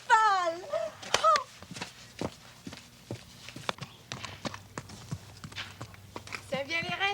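Horse hooves clip-clopping at a walk while a child rides, with sharp sparse hoof knocks in a steady loose rhythm, mixed with excited speech and a high animated voice.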